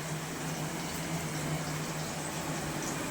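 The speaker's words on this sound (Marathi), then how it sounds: "चला कांदा आता परतायला चालू आहे काम. मला वाटतं स्लो फ्लेमवरती आहे कांदा" Chopped onion sautéing in a pan over a slow flame, giving a steady, soft, continuous bubbling sizzle with a faint hum, even and unbroken throughout.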